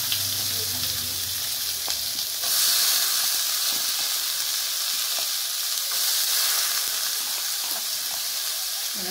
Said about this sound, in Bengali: এবার আমি এই যে কুমড়ো আর মূলো যেটা কুটে রেখেছিলাম, এই দেখো আমি দিয়ে দিলাম।